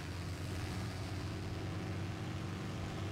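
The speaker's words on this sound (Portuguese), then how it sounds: "E aparece um avião." A propeller airplane in the video game War Thunder drones steadily, a faint, continuous engine hum with broadband noise and no speech.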